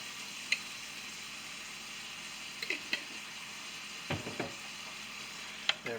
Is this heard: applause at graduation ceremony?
no